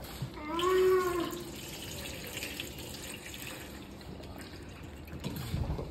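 Water poured briefly during an infant's baptism at a christening, a short splashing trickle near the start, then quiet room ambience.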